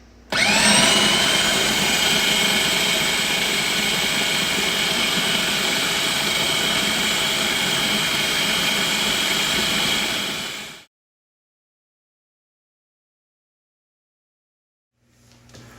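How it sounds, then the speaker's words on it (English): A food processor blends tomatoes and vegetables on high with a loud, steady whirring drone for about ten seconds. It then cuts off abruptly into silence, followed by a faint rustle near the end. "I'm gonna put that on high for a little bit, let it pulse up, let it all mix up a bit"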